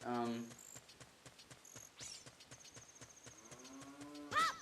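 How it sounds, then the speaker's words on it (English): A cow lows in The Legend of Zelda: Ocarina of Time, with short harmonic moos at the start and again near the end over rhythmic, plinking game music and ticking footsteps. "There's a cow somewhere."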